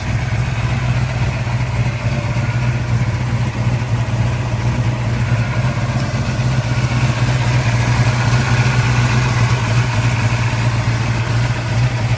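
A 1971 Ford Boss 351 V8 with solid roller lifters idles steadily and close by, its low, even rumble running throughout with a faint mechanical tick over it and no talk.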